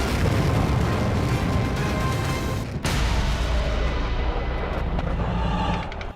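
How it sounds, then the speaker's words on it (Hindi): A loud, continuous roar of heavy Iranian Fateh-110 missile blasts rumbling without pause, with a brief dip partway through before the rumbling resumes. "दुश्मन के दिल में खौफ भर देने वाले धमाके।"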